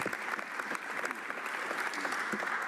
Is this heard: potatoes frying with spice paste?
no